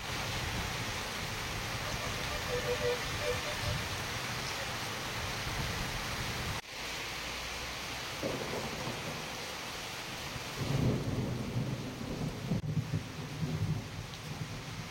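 Light rain patters steadily with low rumbles of thunder rolling in and out over about fifteen seconds, during a spell of light showers and cooler weather in the Adilabad area.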